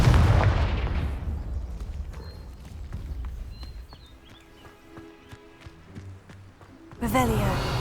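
A Confringo blasting spell goes off in the Hogwarts Legacy video game as a loud explosive burst that fades over several seconds into quieter game ambience, and a second sharp blast follows near the end.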